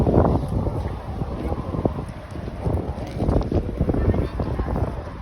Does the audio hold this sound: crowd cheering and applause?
no